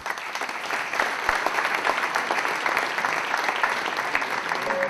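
Audience applauding at a company anniversary reception after a champion pilot's flight film, with sustained dense clapping from a large crowd at a steady level throughout.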